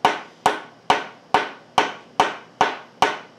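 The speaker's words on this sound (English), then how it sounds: "I like using the rubber mallet" Eight sharp, evenly spaced knocks of a rubber mallet tapping a castle-jointed wooden table frame into place, close and fairly loud, each with a short dull decay.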